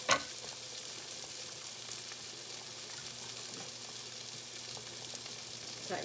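Onions fry in a pan with a soft, continuous hiss and crackle that stays fairly quiet and even throughout, with no voices.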